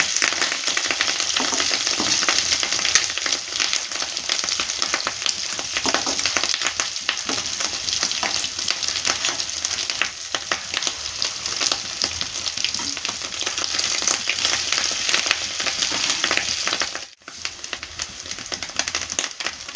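Fish-roe fritters (bora) frying in foaming oil give a loud, steady sizzle and crackle that runs for nearly twenty seconds, dipping briefly near the end.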